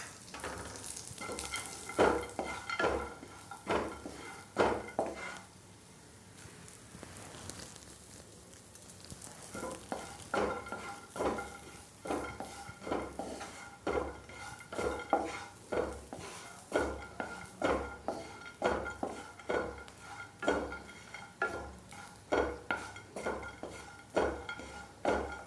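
Almonds and raisins roast in a pan with a soft sizzle under frequent rhythmic scraping and clinks of a spoon stirring against the metal, pausing briefly before resuming steadily.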